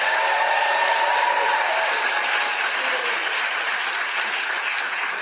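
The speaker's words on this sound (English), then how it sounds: "Give your families a round of applause." A convocation audience gives graduates' families a sustained round of applause, a dense, steady wash of clapping from a large crowd that stays loud and even throughout without letting up.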